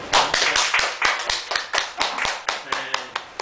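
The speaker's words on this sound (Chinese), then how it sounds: "所以呢，来大家以热烈掌声来欢迎吴老师" A small audience at a talk on nuclear power welcomes the speaker with clearly separate, rhythmic hand claps in a steady beat, with a voice faintly underneath.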